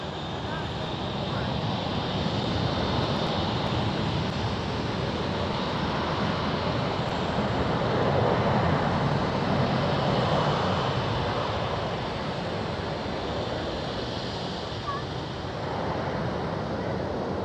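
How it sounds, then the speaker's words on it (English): A Delta Airlines Airbus A330 airliner at Schiphol airport, a broad steady jet engine roar at moderate distance holding for the whole stretch with wind-like rushing noise. "Delta Airlines A330."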